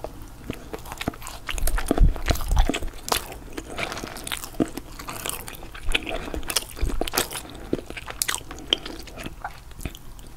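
Someone bites into and chews assorted Walmart donuts close to the microphone. Soft, crunchy bites and moist chewing repeat steadily in a quiet setting.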